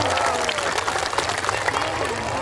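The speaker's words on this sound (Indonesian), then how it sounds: "Tepuk tangan dok." A crowd claps and cheers at an outdoor political gathering in Indramayu, a dense, loud wash of applause with some voices mixed in.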